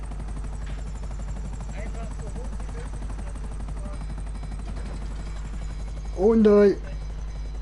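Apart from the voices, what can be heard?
helicopter in video game GTA 5 Online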